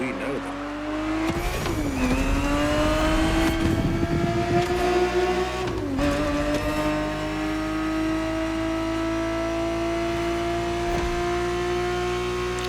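Ferrari 365 GTB4, a 1970s racer, roars through The Crew Motorfest with a loud sustained engine note that rises as it revs and drops at each gear shift. Brief tire squeal and road noise sit under steady, continuous acceleration.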